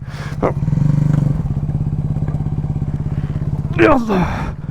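An off-road motorcycle idles steadily close by while being pushed and lifted down a steep trail, with clattering and thumps, a short rev near the end, and people talking over it.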